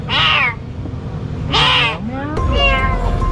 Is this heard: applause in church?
no